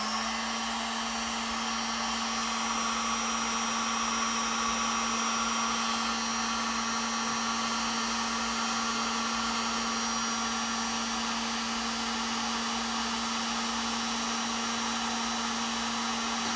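Heat gun warming the plastic covering on a 1939 Philco radio, a steady, loud, even blowing hum with a constant whine that runs unbroken throughout.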